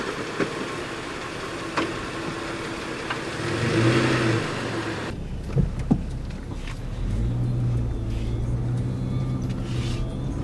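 A Nissan Xterra, just back from a rear brake job, rolls along on a test drive. There is a steady, moderate engine and road drone with a short surge partway through, and a few small knocks and clicks from inside the cabin.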